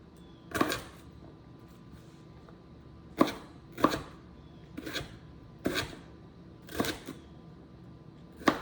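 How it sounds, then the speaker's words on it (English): A knife chops Brussels sprouts and carrots on a cutting board, making about eight crisp, separate thuds spaced a second or so apart. The sound is close and clear over quiet background. "cut cross-sectionally right to the side to get some crispy bits"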